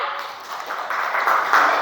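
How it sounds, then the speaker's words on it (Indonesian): A classroom group gives a short burst of clapping, brief and fairly close, with the sound rising slightly toward the end. "Oke, yang tepuk tangan."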